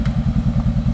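Motorcycles arrive nearby with a loud, close, pulsing engine rumble that thumps in a fast, even rhythm for about a second. No one talks over it.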